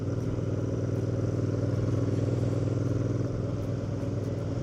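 A motorcycle cruising steadily along a quiet country road past small meadows, its engine a continuous close, even drone with a low throbbing rumble and no pauses throughout.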